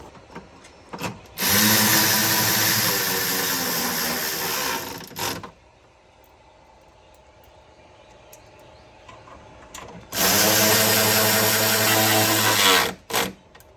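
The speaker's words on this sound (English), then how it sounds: "now I put the screws back in" A power drill drives screws back into a fender in two sustained whirring bursts, close and loud, separated by a quiet pause with small clicks and handling noises.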